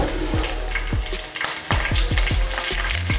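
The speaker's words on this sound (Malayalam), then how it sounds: "അതിലേക്ക് കുറച്ച് കടുക് ഇടുക, 3 വറ്റൽ മുളക്, ഒരു 2 പച്ചമുളക്" Mustard seeds, dried red chillies and green chillies hit hot frying oil that was used for frying eggs. They crackle and sizzle loudly up close, with sharp pops recurring every half second or so over a constant oily hiss.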